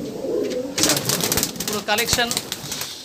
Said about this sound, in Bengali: সারানপুরি পায়রার কালেকশন দেখাচ্ছি আপনাদেরকে